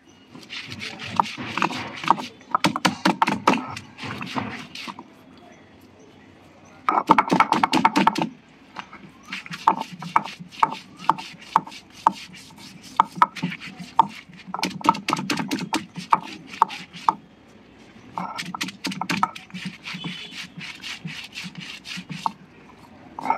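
Raw coconut being pounded on a stone grinding slab in a home kitchen, bursts of rough rhythmic scraping and thudding strokes separated by short pauses, close and fairly loud.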